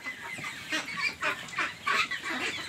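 Ducks quacking in a pen, several overlapping calls in irregular bursts, fairly close and clear with no talking.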